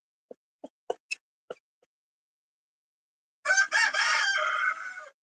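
A mother hen with newly hatched chicks makes five short, sharp clucks, then after a pause lets out a loud, drawn-out crowing call close to the microphone, with no talking.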